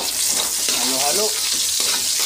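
Garlic sizzles in hot oil in a pan, a loud, close, continuous fry with stirring scrapes and a brief voice-like sound over it.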